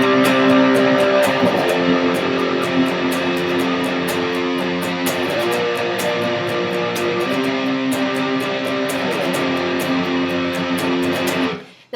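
An electric guitar plays the chorus of a song with steady, driving strummed chords and a bright, full tone. It stays loud and up close for the whole stretch, then cuts off abruptly, with no talking.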